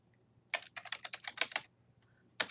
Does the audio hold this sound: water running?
no